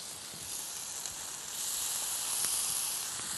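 Paneer tikka on skewers sizzles in very hot oil on a grill pan, a steady close hiss and crackle that swells slightly midway and continues without pause, with no talking.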